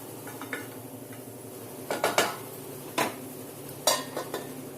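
Momo filling is stirred in a pan, a few sharp scraping clinks of a spoon against metal over a faint steady sizzle, followed by a lid being set down.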